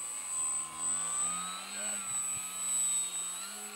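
Small circular Nutball RC plane hovering in place, its electric motor giving a steady, moderately loud high whine with a constant tone throughout, a low hum underneath.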